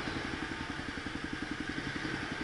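A motorcycle engine runs while riding, its mid-pitched putter pulsing in a quick, steady rhythm beneath a constant wind-like roar, with no voices.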